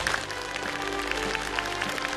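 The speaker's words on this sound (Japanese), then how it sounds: "どうぞ拍手でお迎えください。" Full-house audience at a film screening clapping to welcome actor Ken Watanabe and the director onstage; a brief, dense burst of steady applause with no pauses.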